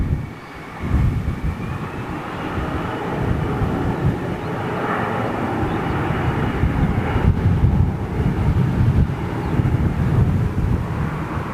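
A TAP Airbus A330neo airliner passes at Toulouse, a steady, broad jet roar with some wind buffeting on the microphone, sustained and fairly loud throughout with no talking.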